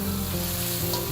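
Two eggs frying in a pan give a steady, loud sizzle and crackle that fills the whole moment without a break or any voice.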